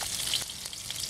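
Ginger hitting hot oil in a pan for a pork steak curry sauce, a steady close sizzle and frying hiss with no voices.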